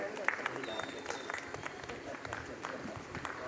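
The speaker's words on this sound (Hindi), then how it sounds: "सभी ताली बजाएंगे।" Audience at a Faridabad news studio opening in Ashoka Enclave applauds steadily, a dense crowd clapping that runs throughout, with a host's voice speaking over it.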